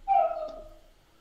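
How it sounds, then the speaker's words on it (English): A house-sat dog gives a single short bark or yelp up close, a sharp tonal burst that fades quickly into quiet. "Yeah, that's the dog that I'm house sitting for right now."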